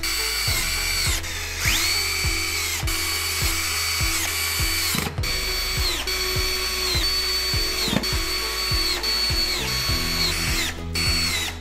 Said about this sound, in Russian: Уголок крепится вровень с торцом царги на саморезы из комплекта фурнитуры.